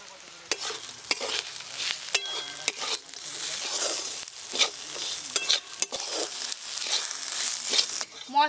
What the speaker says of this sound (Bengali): মশলার সঙ্গে চাল বেশ ভালো করে কষে নিয়েছি